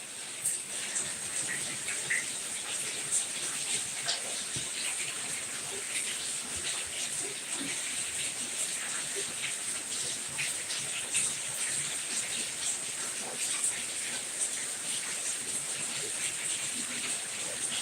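Steady rain falls in a dense, even hiss that holds for the whole stretch, with scattered drops and small splashes standing out against it.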